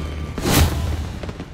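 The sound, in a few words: fireworks bursting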